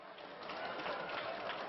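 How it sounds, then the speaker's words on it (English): An audience at a family fair claps steadily, a dense continuous wash of many hands applauding together, with no voices over it. "can you start clapping so I know you've seen it?"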